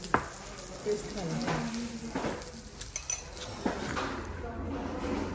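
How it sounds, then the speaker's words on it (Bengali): A sizzling beef kadai served at the Grand Sultan Tea Resort hotel in Sreemangal hisses and crackles steadily, with light clinks of cutlery and dishes and people talking nearby. "এটার নাম হচ্ছে বিফ কড়াই আমরা যেটাকে সিজলিং বিফ বলি"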